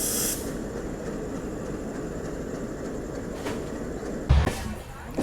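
Matsyagandha Superfast LHB train rolls into Madgaon Junction, a steady broadband rumble and hiss of wheels and coaches running continuously, with a brief louder clank near the end.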